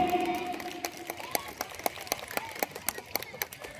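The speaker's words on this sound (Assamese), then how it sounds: "গোটেই ছাত্ৰ ছাত্ৰীসকলে এটা ডাঙৰ হাত চাপৰি।" Students at a school's annual gathering clap in a sparse, uneven burst of applause, with separate claps standing out. A faint voice is heard at the start and the clapping thins out toward the end.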